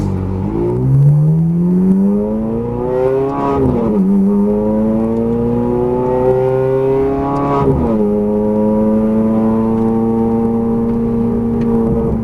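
A Ferrari F430 Scuderia pulling onto a Las Vegas race track, its engine loud and close, climbing in pitch through rising revs, dipping briefly at two gear changes, then holding a steady strong drone.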